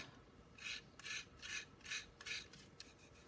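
A blade shaves and smooths a cured plaster cast in six or seven quick, close rasping strokes with short gaps between them, quiet and without speech.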